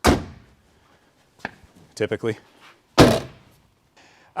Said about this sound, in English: You can also tell when you close the doors